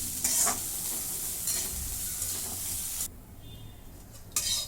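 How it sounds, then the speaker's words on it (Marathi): Hot green chillies fry in a pan with a constant crackling sizzle while they are stirred and scraped. It sounds close and fairly loud, eases briefly near the end, then flares again. "आणि ही तिखटावाली मिरची चांगलं परतून घेते"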